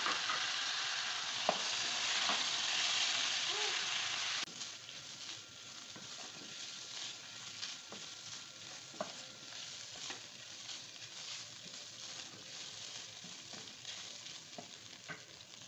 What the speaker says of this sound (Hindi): चिकन जो है अच्छे से फ्राई हो चुका है